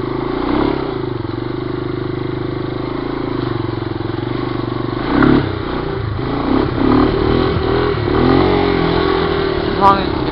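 A Yamaha 200E motorcycle engine drones steadily while popping a wheelie in the snow, with revving swells and some clatter toward the end, under a voice talking throughout.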